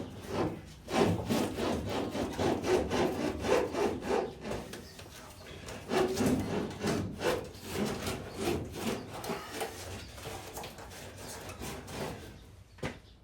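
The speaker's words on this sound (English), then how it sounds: "this sealer is really dry. So it's cutting real easy." Steady back-and-forth cutting strokes slice through dry, aged windshield sealer on a long-installed auto windshield, a rhythmic rasping saw-like sound repeating close up for the whole stretch with no talk.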